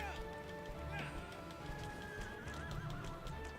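Horse neighing and whinnying in the video game Shadow of the Colossus, with clip-clop hoofbeats and a steady game soundscape, while people talk over it.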